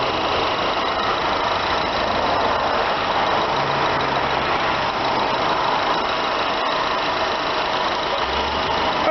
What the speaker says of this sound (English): Car sounds just like brand new.